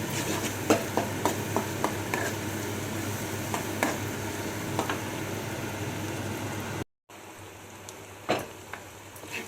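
Mutton and tripe stir-fried with ginger garlic paste in a pan give a steady sizzle broken by repeated light scraping and clinking strokes from stirring, with a short gap before the frying resumes.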